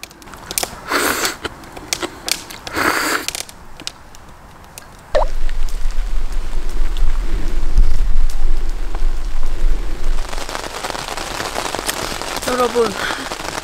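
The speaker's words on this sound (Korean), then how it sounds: "안에 딱 들어왔는데 비가 이렇게 막 내려요 지금" Steady heavy rain falls on a camping tent, a dense continuous patter with low rumbling beneath, after a few seconds of rustling and movement; a voice briefly speaks near the end.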